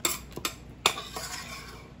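Homemade sofrito being packed into a plastic container in a home kitchen, with a few soft knocks and clinks of the container and utensils and one sharper tap, fairly quiet and close.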